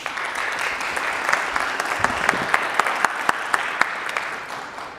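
A conference hall audience at the SCaLE tech event gives a speaker a steady round of applause, with a few sharp, distinct claps in a regular beat standing out above the broad crowd clapping.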